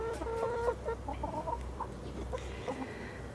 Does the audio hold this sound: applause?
no